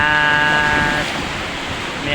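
Strong sea waves surge and wash close by near a fishing spot with murky water. The roar is loud and continuous, with wind buffeting the microphone and a steady tonal hum underneath.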